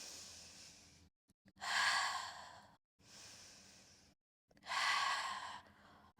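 Long audible exhalations during a mat pilates exercise, two breathy rises each building to a forceful rush of air, separated by brief silences, close and fairly quiet.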